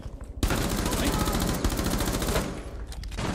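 Rapid automatic gunfire from Rainbow Six Siege bursts in after a brief pause, loud and sustained for about two seconds, then trails into scattered shots.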